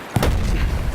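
Grenade detonation in Battlefield 1 multiplayer combat, one sharp close blast followed by a loud rumbling tail that fills the rest of the moment.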